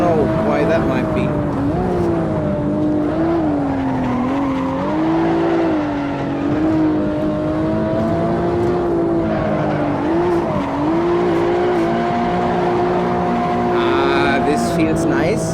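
Tires of a BMW 1 M Coupe squeal and skid as the car slides out of corners in Assetto Corsa, a sustained wavering screech over a steady engine drone, loud and continuous throughout.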